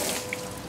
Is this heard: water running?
yes